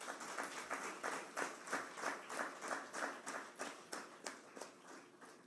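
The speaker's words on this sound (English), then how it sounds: "Ladies and gentlemen, give them a big applause." Steady rhythmic clapping from a crowd, fairly faint and distant, pulsing in regular beats for several seconds.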